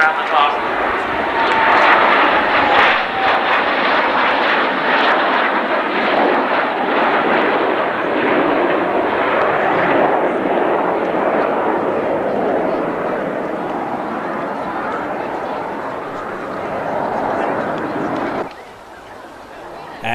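A Canberra jet performs a tight 360-degree turn at an air show, a loud broad engine roar that holds steady and then fades, with voices over it.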